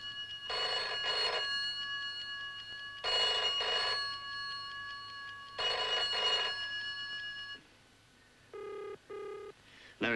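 An old-fashioned telephone bell rings indoors in loud repeated double bursts, three cycles in a row, followed by a few short electronic tones near the end.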